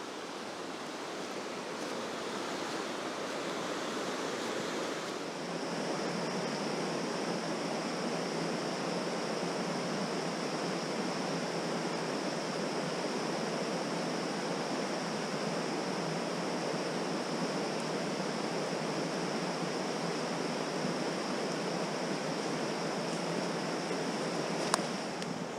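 A river rushes through a forest on a misty, drizzly winter day on Dartmoor, a dense constant wash of water noise, steady and fairly loud with no voices.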